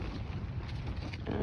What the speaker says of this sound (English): It is way too windy right now.